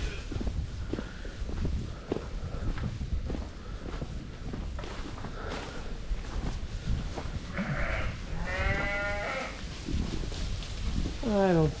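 Newborn lambs and sheep bleating in a barn at lambing time, a few short bleats rising late over a busy background of shuffling straw and movement, moderately close.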